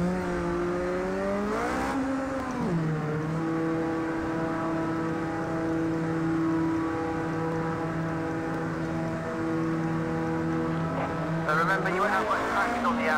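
In Project CARS 2, a race car's engine drones steadily at Silverstone, a sustained nasal tone that holds near one pitch, dips as gears change, then rises again near the end, loud and continuous with no talk over it.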